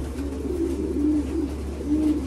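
Racing pigeons cooing in a loft, low soft repeated coos over a steady background hum.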